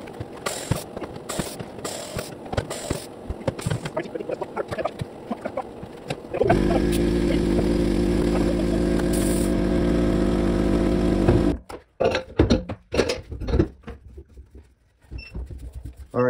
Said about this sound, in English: Back to the tire machine.